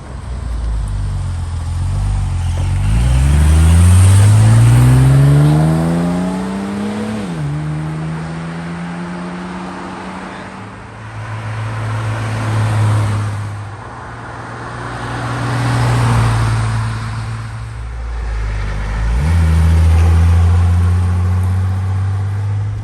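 A 1970 Mercedes-Benz 280 SL Roadster is heard from the passenger seat on a winding road, its engine loud and close as it climbs and falls through the revs, easing off and pulling again several times.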